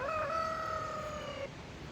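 A rooster crows once in a long, strained call lasting about one and a half seconds, fairly close and clear over a quiet outdoor backdrop, with no talking.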